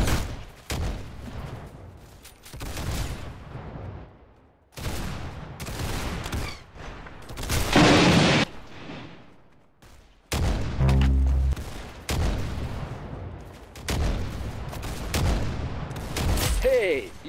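Gunshots and bursts of fire from the Roblox-style shooter game Arsenal come in separate loud clusters with short gaps between them, along with other game sounds.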